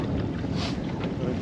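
Strong wind buffets the microphone over open water during a catfish fishing trip, a steady roaring rush with low rumble and splashy texture, no words spoken.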